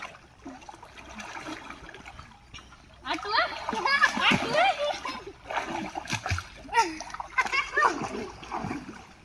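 Water splashes repeatedly in a village pond in uneven bursts, loud and close, with children's voices talking over the splashing throughout.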